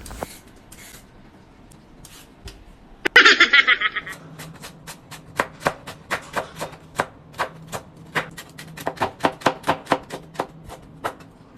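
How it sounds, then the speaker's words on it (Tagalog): Knife chopping carrots, garlic and onion on a board for pansit, a run of sharp, evenly spaced taps after a brief rustle, close and clear. "Maghihiwa muna ako dito ng aking mga gagamiting sangkap katulad ng bawang sibuyas"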